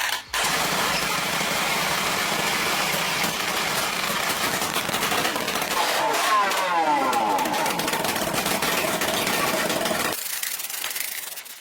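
A homemade SU35 jet boat engine built from inexpensive materials, freshly taken apart, cleaned and adjusted, runs with a loud, steady, rough roar that holds for about ten seconds before abruptly cutting out.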